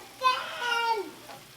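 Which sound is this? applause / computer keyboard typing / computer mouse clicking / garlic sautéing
garlic sautéing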